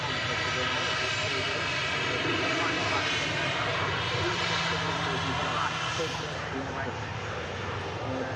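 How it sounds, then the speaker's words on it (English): An Emirates Airbus A380-800 arriving from Dubai lands at Manchester Airport, its steady engine roar filling the scene with a broad continuous rush while people talk over it. "Emirates Flight 17 coming in from Dubai. The Airbus A380 800 series landing here on 23"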